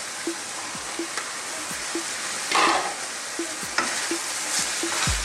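Frying beef or lamb mince with dried thyme and diced carrots is stirred and folded in a pan, making a steady hiss with regular scraping strokes about once a second and a louder burst of sizzle midway, no voices.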